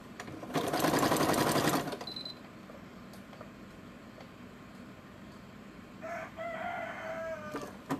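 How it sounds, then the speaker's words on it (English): A rooster crows from somewhere outdoors, one faint, distant call near the end, after a short loud burst of a running sewing machine close by. "Somebody tell me you can hear that rooster."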